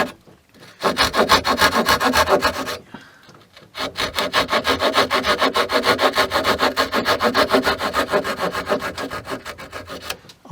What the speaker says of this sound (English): it's going to give me an excuse to use my little pocket saw